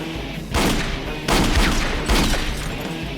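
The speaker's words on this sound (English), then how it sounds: "Shots fired." Gunfire in an Italian-dubbed action film, with three loud, sharp bursts roughly 0.7 seconds apart, each followed by a lingering roar and echo, heard alone without talk.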